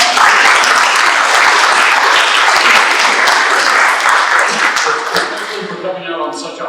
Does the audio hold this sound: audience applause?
yes